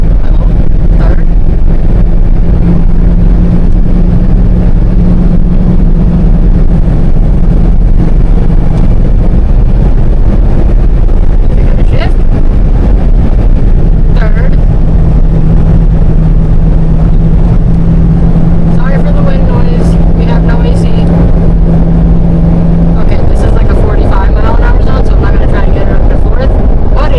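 A project car's engine drones loudly and steadily while driving, its pitch holding then dropping and rising again as gears change, with wind buffeting the microphone and a voice talking over it.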